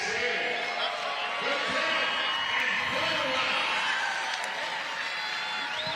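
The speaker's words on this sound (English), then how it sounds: "Hear this Fresno crowd" A Fresno boxing crowd fills the arena with steady cheering and applause during the final round of a title bout, heard beneath continuous commentary.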